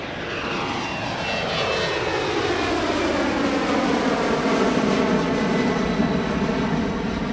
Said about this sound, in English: a Chengdu Airlines Comac ARJ21-700 taking off for a brief display